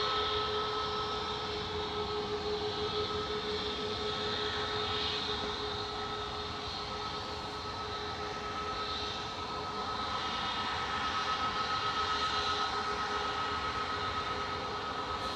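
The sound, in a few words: Ryanair airliner taxiing past at Manchester Airport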